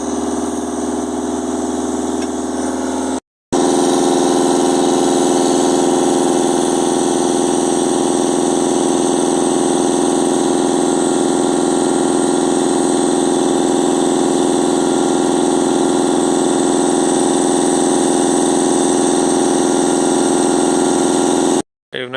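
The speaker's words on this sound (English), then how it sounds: "We've got the engine running." A Vauxhall/Opel Insignia 2.0 CDTi diesel engine with a turbo overboost fault runs steadily at about 2,500 rpm for about twenty seconds, a loud, constant mechanical drone with a brief cut near the start.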